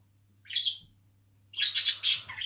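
Pet birds chirp indoors in two bursts of high tweets, a brief call and then a longer chattering run, close and clear over a low electrical hum.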